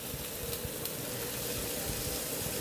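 Onions sizzle as they fry in a pan, a soft continuous hiss with faint crackles and occasional pops, quiet and steady throughout.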